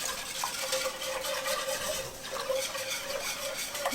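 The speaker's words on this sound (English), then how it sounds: "we're going to whisk until most of the flour dissolves" A whisk stirs flour into liquid in a pot to make a sauce, giving a steady wet swishing and scraping with faint clinks against the pot, continuous and close.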